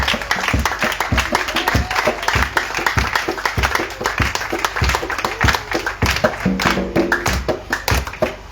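A church congregation at a worship and testimony gathering claps and applauds steadily, with dense rapid hand claps and crowd noise filling the room throughout, loud and sustained, with a brief tonal sound near the end.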